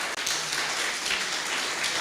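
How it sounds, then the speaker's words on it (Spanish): A church congregation applauds, with dense, steady clapping from many hands filling the room at moderate loudness throughout. "Yo te pido que le demos un aplauso al Señor"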